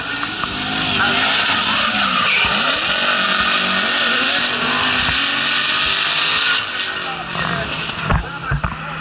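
Loud race car tires squeal and skid over a roaring engine at the Tunerfest 2024 event, with a commentator's voice talking over the noise throughout.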